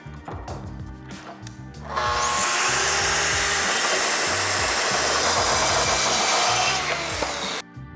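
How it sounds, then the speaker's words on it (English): A power saw ripping along the edge of a wooden board for a faux box beam, a loud, high, steady whine of about six seconds that rises as the blade spins up and cuts off abruptly. "We're gonna rip this top edge flush and square so that it fits right up against the ceiling."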